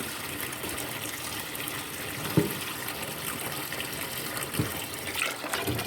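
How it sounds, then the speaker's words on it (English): Water drains off rinsed rice in a pot, a continuous close splashing rush with a few small knocks, heard alone without talk. "When we wash our rice, we are going to rinse it. Just drain the water."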